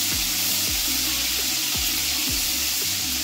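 Garlic sizzles steadily in about three tablespoons of hot cooking oil, a dense continuous hiss and crackle with soft periodic stirring thumps underneath, close and loud with no talking.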